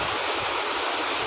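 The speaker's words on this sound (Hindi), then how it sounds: "ऊपर से पानी गिर रहा है" A waterfall pours down from above past ice-covered sides, a steady, dense rush of falling water filling the scene without pause; no voices are heard.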